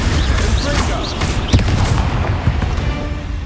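A Confringo blasting spell explodes in Hogwarts Legacy, loud booming bursts rolling through a tomb amid continuous combat noise, with a voice calling out.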